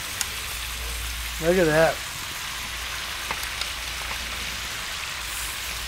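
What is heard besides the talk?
thick steaks dropped into hot oil, frying on Disc-It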